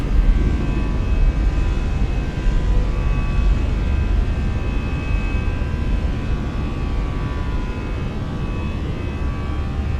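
Airbus A319 airliner taking off in a flight simulator game, with a steady, loud, dense engine roar and rumble that holds unbroken throughout, with no talk over it.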